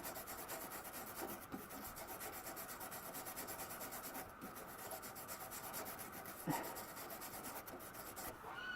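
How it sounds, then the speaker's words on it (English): A wire brush scrubs flaky surface rust off a Land Rover, making a continuous, faint, hissing rasp with steady back-and-forth strokes and a couple of small knocks. "best thing to do is out with a wire brush, just trying to get rid of all the surface stuff"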